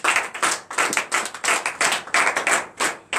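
Congregation at a Tuesday morning prayer service in Benin clapping in unison, loud rhythmic rounds of hand claps in short regular bursts with brief gaps, close and alone without speech.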